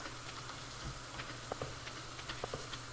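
Rain in the farming game Stardew Valley, a faint, steady patter with scattered soft drips and taps standing out now and then, with no voices.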